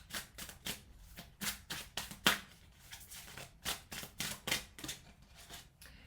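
Tarot cards handled and drawn from a deck during a reading, a series of quick papery shuffling swipes and flicks repeating roughly every half second, close and fairly quiet, with no talking.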